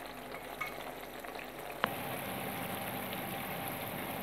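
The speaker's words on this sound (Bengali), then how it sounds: "দুই মিনিটের মতো এটাকে আমি তেলের মধ্যে ভাজবো।" Spices sizzle in hot oil with ginger paste for chicken masala. The steady frying hiss is faint at first, then jumps to a louder, even sizzle after a sharp clink partway through.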